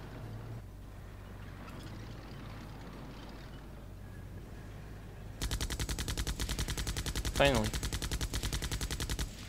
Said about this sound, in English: Don't you have a machine gun? You should have. So come on, shoot them.